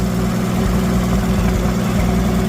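A Dirty 230 tractor engine idles steadily close by, a continuous low, heavy rumble with slight vibration and no talking over it.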